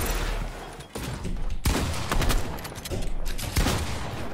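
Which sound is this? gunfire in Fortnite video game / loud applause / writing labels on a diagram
gunfire in Fortnite video game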